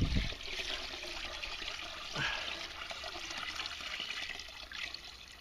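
Water and black sand concentrates pour from a gold pan during gold panning. A faint, continuous trickling and sloshing of liquid plays alone, with one slightly louder splash partway through.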